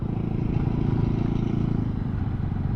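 Yamaha Sniper 155R motorcycle engine braking with a 14-48 sprocket combo, a loud steady low engine drone heard close and alone, holding an even, strained tone as the bike slows.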